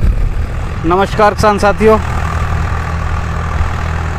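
A Swaraj 744 FE tractor engine runs with a cultivator, a steady low rumble that continues under a man's brief spoken greeting and then sounds alone.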